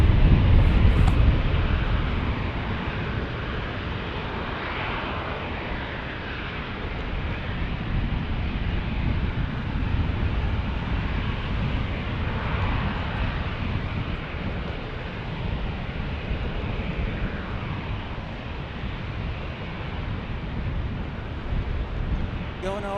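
A jet airliner taking off from San Diego's single-runway airport, a steady loud roar of engines with wind buffeting the microphone throughout, sustained and fairly near.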